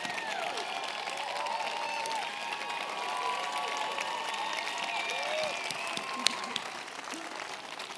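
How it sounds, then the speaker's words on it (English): A large audience at a climate change event with President Obama and Leonardo DiCaprio applauds, a dense, steady roar of clapping that holds evenly throughout with faint crowd murmur. "I was going to say let's give him a round of applause,"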